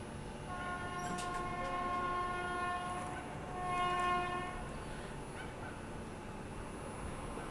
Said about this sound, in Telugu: ఎక్కడి నుంచో హారన్ కొడుతున్నాడంటే ఫ్లాట్ 130లో వస్తున్నాడు